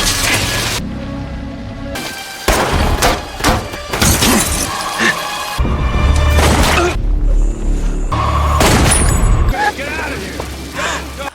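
Gunshots in a shootout from the 2018 film Death Wish, several sharp loud bangs and crashes among tense movie sound effects and music, with some dialogue in between.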